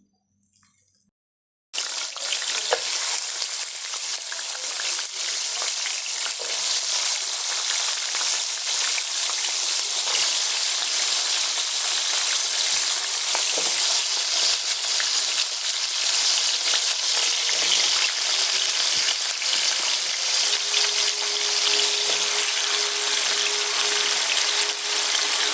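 Potatoes fry in a hot pan with a loud, continuous sizzle that starts abruptly after a brief quiet moment and holds steady to the end.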